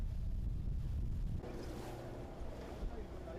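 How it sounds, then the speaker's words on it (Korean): A boat pushing overnight through heavy seas and strong wind near Dokdo, with a steady roaring wash of wind and water that drops to a lower, churning rush of waves and hull noise partway through. "심한 파도와 강한 바람을 헤치고 밤새 달려온 뱃길."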